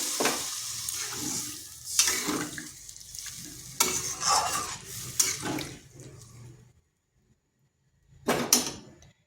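Water poured into a pan of frying duck egg and cauliflower curry, bursts of sizzling and splashing with stirring, a short quiet gap, then another brief loud hiss near the end.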